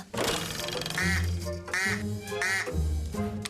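A cartoon duck gives loud, repeated quacks in short bursts over busy background sound, with deep honking tones between them.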